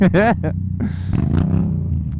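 A motorcycle exhaust revs nearby, giving a loud, throaty roar with a steady low engine drone that rises and falls beneath a voice.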